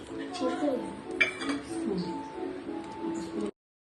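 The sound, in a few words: mixing curry in a pot with a spoon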